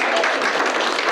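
A short burst of dense, steady audience applause honouring landlords at a community learning event, filling the whole moment with no talk over it.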